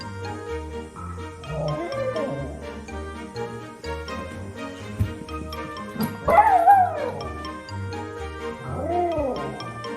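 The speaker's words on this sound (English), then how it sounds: "Dogs howl for similar reasons." A dog howls in drawn-out, wavering rising and falling cries mixed with yips and whimpers, moderately close, with background music underneath.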